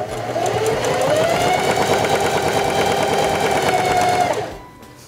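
A Singer Heavy Duty 4411 sewing machine stitches fabric, running loud and steady with a fast mechanical chatter for about four seconds, then stopping abruptly.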